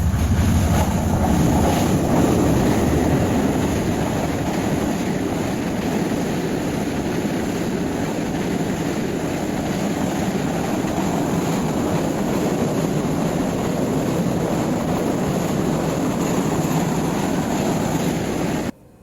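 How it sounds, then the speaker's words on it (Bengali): A train passes through green village countryside with a loud, sustained rushing rumble, steady for nearly twenty seconds before cutting off abruptly, with wind buffeting the microphone and no talking. "সবুজের বুক চিরে একটা ট্রেন যায়"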